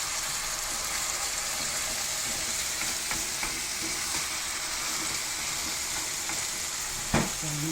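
Vegetables for a pizza cooking in a pan after a splash of water is added, with a constant close hiss and bubbling and a single louder knock near the end.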